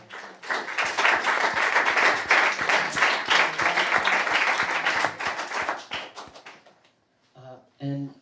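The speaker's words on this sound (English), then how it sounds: "So I would ask for a round of applause." An audience applauds a featured author at a poetry reading, a dense burst of clapping that swells, holds for several seconds and then tapers off, followed by a brief voice.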